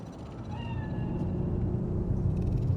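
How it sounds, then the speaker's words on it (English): A cat meows in the video game Cyberpunk 2077, a couple of short rising meows over a low, steady ambient city rumble, with no speech. "Fine-looking feline. Thought they'd all disappeared from the city."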